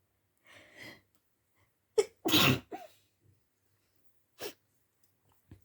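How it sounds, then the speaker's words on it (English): One sharp, explosive sneeze, preceded by a short breathy inhale and followed by a quieter exhale, in an otherwise quiet room. "I might sneeze."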